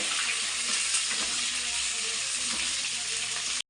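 Green chillies, garlic and onion stirred in a frying pan for chilli chicken, giving a steady, loud, unbroken sizzle throughout with no voices.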